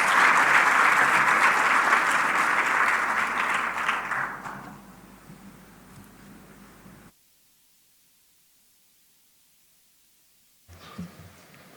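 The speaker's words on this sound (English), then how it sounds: "Let's appreciate him with a round of applause as he comes." Applause from an audience at a Rwanda health survey dissemination event as a minister comes to the stage: loud sustained clapping that fades away after about four seconds, then near silence and a brief rustle.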